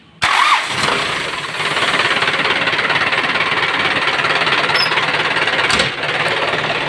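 Isuzu 4BC2 diesel engine cranking and catching, then settling into a loud, rough, rattling idle that runs steadily close by, with a brief dip near the end.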